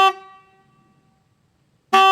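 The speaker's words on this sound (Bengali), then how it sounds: "দূরে একটা অটোর হর্ন।" A distant auto-rickshaw horn on a village road at night gives one long tonal honk that slowly fades, then a second loud blast starts abruptly near the end.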